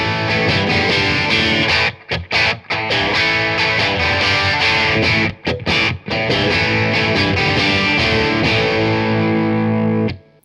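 Heavily distorted electric guitar through a driven Fender '68 Deluxe Reverb tube amp playing loud sustained chords, with a few brief gaps between phrases, ringing out to silence at the end.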